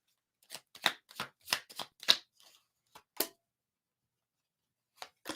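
Tarot cards being shuffled by hand: a quick series of about ten crisp riffling bursts in an uneven rhythm, close and clear, then a pause and two more brief shuffles, with no talking.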